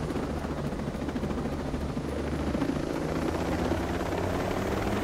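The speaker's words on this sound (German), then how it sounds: "Ja, da gibt's ein Heli." In a video game, a helicopter's rotor thrums steadily for the whole stretch, a dense, continuous chopping drone with no speech over it.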